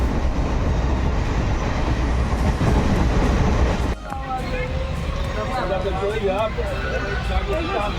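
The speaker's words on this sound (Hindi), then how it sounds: "पटना जंक्शन से ट्रेन खुलने के बाद थोड़ी ही देर चलती है कि ट्रेन के अंदर का सीन कुछ ऐसा होता है" Steady rumble and rattle inside a moving passenger train leaving Patna Junction, with continuous clatter throughout and a sudden drop in the noise midway, after which the rolling sound carries on with faint voices and squeaks in the carriage.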